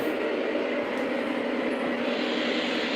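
Lionel model train running steadily on a home layout as it is brought in to park, a continuous mid-pitched rolling rumble and motor whir, close and even throughout with no talk.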